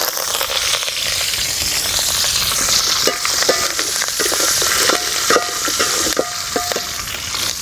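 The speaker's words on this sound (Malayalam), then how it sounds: "അടുത്ത് നമുക്ക് കറിവേപ്പില ഇട്ട് കൊടുക്കാം." Curry leaves and fenugreek seeds with mustard seeds crackle and sizzle steadily in hot oil in a Kerala drumstick thoran pan, with sharp pops and stirring scrapes, close and alone.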